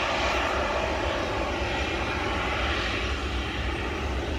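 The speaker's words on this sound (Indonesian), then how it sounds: "ada satu pesawat Lion Air yang siap-siap untuk take off" A Lion Air airliner readies for takeoff at Sultan Hasanuddin International Airport near Makassar, its engines giving a steady, loud, broad roar that fills the whole stretch without pause.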